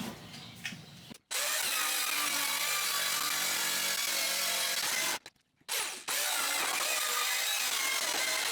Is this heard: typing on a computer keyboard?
no